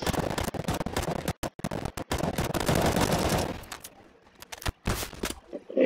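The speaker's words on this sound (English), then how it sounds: "Like two people shooting at me." Rapid bursts of gunfire from players shooting in the CS:GO video game, loud cracking shots in dense volleys for about three seconds, then scattered single shots with brief gaps.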